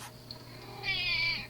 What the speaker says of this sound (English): cat really wanted out